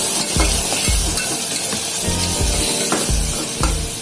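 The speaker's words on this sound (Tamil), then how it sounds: "இதுவும் நல்லா அப்படியே வதங்கட்டும்" Ground tomatoes sauté in a pan for a Tamil squid (kanava) gravy, giving a steady close sizzle broken by repeated scraping stirs and light utensil clinks against the pan.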